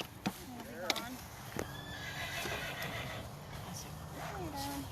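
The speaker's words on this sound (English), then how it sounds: "So if you can hear some whinnying in the background, that's Pocahontas" A horse named Pocahontas whinnies in the background on a farm during a farrier visit, giving a few soft, distant calls under nearby talking and other faint stable noises.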